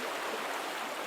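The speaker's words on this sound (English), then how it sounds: "that sound was this wheel making water go up that pipe." Water rushes steadily through a pipe as a turned wheel pumps it upward in the Syberia video game: a continuous, fairly loud broadband gush with no voices.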